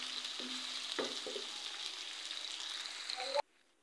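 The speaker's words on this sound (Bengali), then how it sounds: "পেঁয়াজ কুচি দিয়ে দিলাম, কাঁচামরিচ দিলাম, এটি ভালো করে নাড়াচাড়া দিয়ে এটি একটু ভাজা ভাজা করে নেব।" Chopped onion and green chili sizzle and crackle steadily in a hot pan, with a few scraping stir strokes early on, the frying noise cutting off abruptly near the end.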